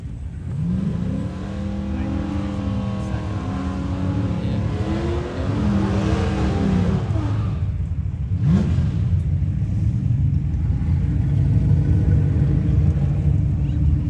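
Drag racing cars, including a new Edge, accelerate down the strip with a loud, continuous engine roar and rising whines, heard against a steady rumbling background.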